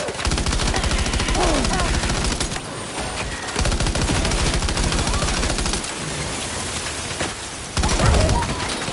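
Sustained machine gun fire rattles in long rapid bursts, dense and loud, with brief pauses between volleys and a heavier blast near the end; no voices are heard.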